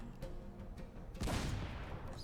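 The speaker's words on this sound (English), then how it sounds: "But these explosions will happen constantly." Explosions in the trading-strategy game Patrician IV: a dull broadband boom bursts in just past the middle and rumbles on to the end, over a steady low background.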